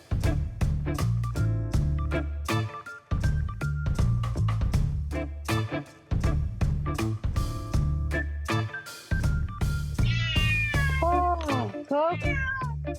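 A hungry cat meows insistently for its dinner inside a van, giving several drawn-out, rising and falling cries near the end over a background of music.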